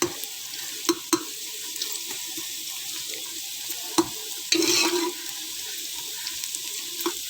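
Sliced onions fry in oil in a pan as the base for a mutton gravy, giving a steady, faint sizzle with occasional clinks and stirring taps.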